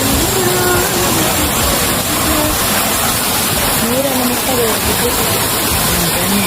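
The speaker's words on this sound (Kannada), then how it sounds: "ಮೂಲಂತೆ ನೀರುಂಡು" Water flows and rushes at Hampi near a dam, a dense, steady broadband wash heard close, with faint voices in the background.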